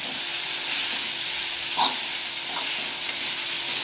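Matki sprouts are being sautéed with turmeric in a pan, making a steady, faint frying sizzle with a soft stir or clink partway through and no talking.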